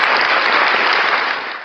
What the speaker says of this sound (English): So my control board was supposed to have the clap